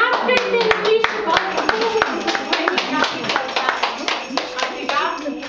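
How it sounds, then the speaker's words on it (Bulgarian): A small group at a nursery school Christmas party claps in quick uneven bursts, close by, with children's voices and chatter mixed in throughout. "Ръкопляскайте, Мишо,"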